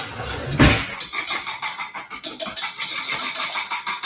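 A wire whisk working through thickening pudding in a pot, a quick metallic clink followed by a rhythmic run of scraping, clattering strokes against the pot sides, close and fairly loud.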